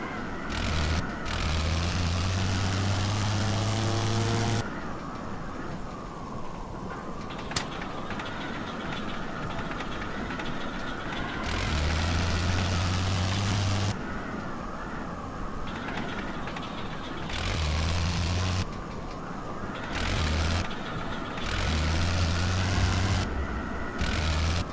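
A WWI biplane's rotary engine blips on and off while landing in Wings Over Flanders Fields, with loud droning bursts alternating with quieter coasting gaps and a rough, rattling tone throughout.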